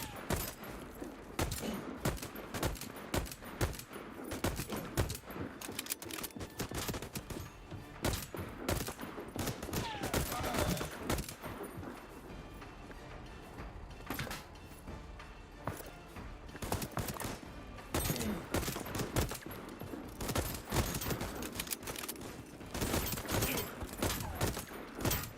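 Rapid, dense gunfire fills the VoidTrain space-train video game, continuous sharp shots and bursts at steady loudness with scattered mechanical clatter and no talking.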